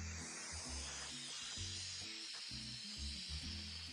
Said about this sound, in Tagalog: Oo, nagsisizzle na lang siya, no?